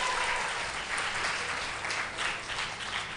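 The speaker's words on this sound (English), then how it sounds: "You can give a huge round of applause for." Applause from a room of students greeting a guest at a school's interactive Children's Day session, a steady wash of clapping that holds evenly throughout at moderate loudness.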